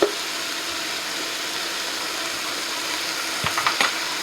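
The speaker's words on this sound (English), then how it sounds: "So to the pan, I'm going to add about 2 tablespoons of minced garlic." Minced garlic sizzles in a pan over medium heat, a steady close frying hiss, with a few sharp utensil clinks against the pan near the end.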